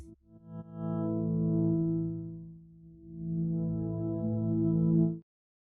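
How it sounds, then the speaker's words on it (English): A sustained synthesizer tone with a dark, muffled timbre, its treble cut away, swelling twice before stopping abruptly. "Currently, we have set the filter to low pass, and it sounds like so."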